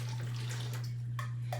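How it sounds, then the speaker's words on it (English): Water poured steadily into a seedling starter tray with drainage holes for bottom watering, a continuous close splashing trickle over a constant low electrical hum, ending with a couple of brief drips. "I'm gonna add some water here and let it bottom water soak up as much water as it would like"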